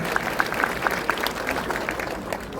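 Mourners at a funeral gathering give a brief round of scattered clapping, fairly faint and sparse, with a murmur of voices in the background.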